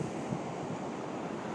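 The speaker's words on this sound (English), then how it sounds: "the ocean, which you may or may not be able to hear" Ocean surf on the beach at Carpinteria, California, at sunset: a steady, broad wash of waves mixed with wind noise, continuous and moderately loud, with no voices.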